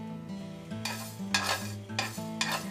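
Mace, cardamom and cloves are dry-roasted over low heat in a pan, stirred with three or four rhythmic scraping sweeps over a faint low hum, close and fairly quiet.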